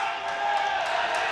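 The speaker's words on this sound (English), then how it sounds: "And now the home crowd is erupting for Ondrej Sip of Czechia." Home crowd at a European equipped powerlifting championship cheering a Czech lifter's 385 kg junior attempt, a broad roar of voices swelling across the hall, with a commentator's voice riding over it.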